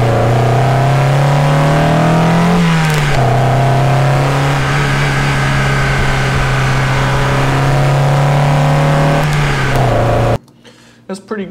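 Car engine revving on a simple recording: a loud steady idle drone rises briefly in pitch around the third second, settles, climbs again near the end, then cuts to quiet.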